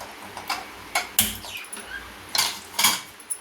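Ingredients for temple-style puliyogare spice powder dry-roasting in a pan, heard as scattered light clicks and scrapes of a spatula against metal, irregular and fairly close, with a couple of sharper knocks.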